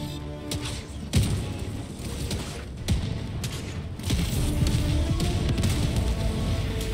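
Repeated heavy thuds and booming blasts from gunfire in the video game Helldivers II, a few sharp shots standing out over a dense, continuous rumble of action.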